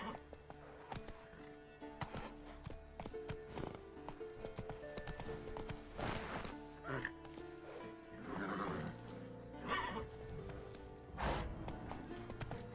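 In The Witcher 3, Roach the horse trots with irregular hoofbeats and gives a few neighs and whinnies, set against game music and ambience, with people talking at times.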